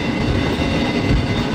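A freight train rolls along toward North Platte, heard from aboard as a loud, steady rumbling roar of rail cars and wheels with no break.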